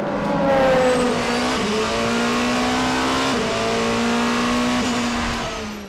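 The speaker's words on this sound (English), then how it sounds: "Through goes the race leader, Brendan Hartley, weaving inside one, outside the other, and that is difficult work at the speed of the prototype cars" Prototype race cars at the 2017 FIA WEC 6 Hours of Mexico howl past at speed, loud high-pitched engine notes rising and shifting as they pass close by, with no talk.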